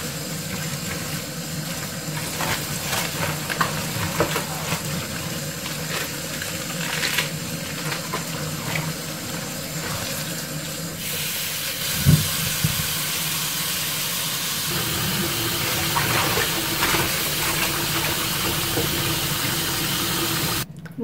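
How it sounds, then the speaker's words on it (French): Lettuce is rinsed under a running kitchen tap in a steady, continuous hiss of flowing water. It lasts throughout, close and fairly loud, and its tone changes partway through. "j'ai rincé ma salade trois fois"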